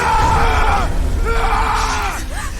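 A friend screams in a horror film scene, with two long strained cries in quick succession, loud and close, the second trailing off into a breathy wail.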